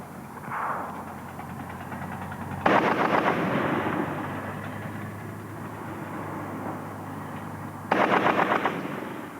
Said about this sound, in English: The heavy machine gun is called into action